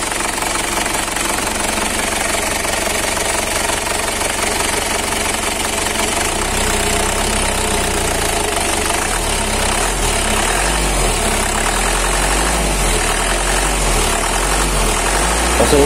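A 2005 Ragasa diesel truck engine idles steadily, loud and close, with a rough knocking chug that deepens into a heavy rhythmic throb in the second half.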